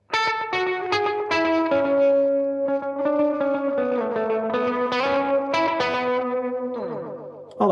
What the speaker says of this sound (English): Has a little bit of modulation on the delays just to give it a bit of depth, and you can hear the kind of warble in them.